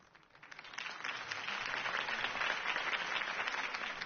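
A crowd applauds after a campaign speech in Batman: The Telltale Series video game, a faint, dense clapping that swells and then holds steady, heard alone and somewhat distant.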